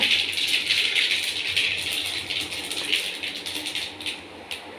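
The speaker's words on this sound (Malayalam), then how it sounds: "കടുക് ഒന്ന് പൊട്ടട്ടെ" Mustard seeds crackle and pop in hot oil in a pan while cooking an idichakka thoran, a steady dense rattle of small bursts heard up close with no talking.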